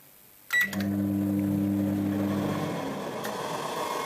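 A steady microwave oven hum with strong low tones, running at 750 W from a 12-220 V inverter, starts abruptly after a click and runs continuously, then eases slightly as broadband noise fills in.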